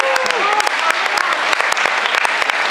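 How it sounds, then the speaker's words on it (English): An audience at a cosplay competition claps steadily, sharp hand claps scattered throughout, with a voice speaking briefly near the start. "Round of applause for these guys?"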